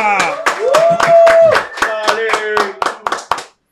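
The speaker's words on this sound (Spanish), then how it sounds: "démonos un fuerte aplauso a todos" A few studio hands clap irregularly to welcome the journalist Sergio García, close sharp claps loosening and thinning out before stopping, mixed with sustained tones and voices.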